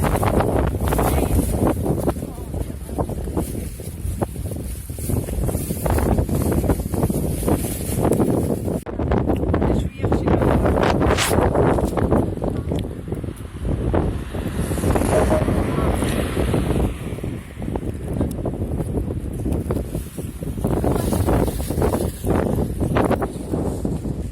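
Wind buffets a microphone outdoors with heavy, continuous rumbling gusts that roar low and loud throughout, rising and falling slightly without pause.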